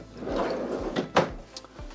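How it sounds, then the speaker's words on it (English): A pots and pans drawer in a 2022 Dutchmen Kodiak Ultra-Lite travel trailer slides and bumps, giving a few soft thuds and scraping knocks, close and fairly quiet with no talk. "You have a really nice pots and pans drawer down here."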